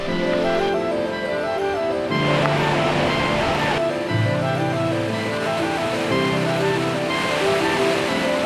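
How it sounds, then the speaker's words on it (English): Jägala Waterfall, 8 meters tall and 50 meters wide in Lahemaa National Park, Estonia, roars with a continuous loud rush of falling water, steady and close throughout. "So Jägala Waterfall is 8 meters tall and 50 meters wide."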